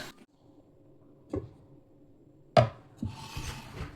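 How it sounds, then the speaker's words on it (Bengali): A metal lid set onto a cooking pot while making homemade rasmalai, a few separate knocks and clinks of varying strength with the sharpest contact near the middle, then light scraping and rattling afterward in a quiet kitchen. "ঢাকনাটা দিয়ে দিব।"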